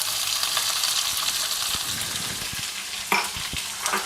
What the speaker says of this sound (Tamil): அடுத்தது நம்ம பெரிய வெங்காயம் சேர்த்துக்கலாம்.